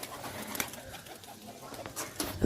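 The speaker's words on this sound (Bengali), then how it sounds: "এখন পায়রাটা ছেড়ে দিচ্ছি এখন ছাদে" A pigeon coos softly on a rooftop, a brief low call under faint outdoor ambience with a couple of small clicks.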